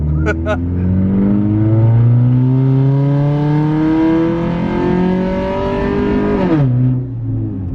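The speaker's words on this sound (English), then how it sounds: "So I'm gonna turn here and just completely floor it and try to stay in it." A Honda CR-V with a suspected transmission problem accelerates at full throttle out of a turn, its engine note climbing in one long, loud, steady pitch rise before dropping sharply as it shifts near the end.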